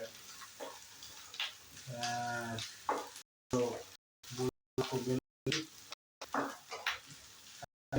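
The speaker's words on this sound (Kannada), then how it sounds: "ಒಂದರಿಂದ 2 ಮೆಣಸಿನಕಾಯನ್ನು ಸರಿಯಾಗಿ ಹುರ್ಕೊಳ್ತಾ ಇದ್ದೇನೆ" Green chillies fry in oil in a pan while a tuna fish dish is prepared, a soft crackling sizzle heard under intermittent talk, with gaps of silence.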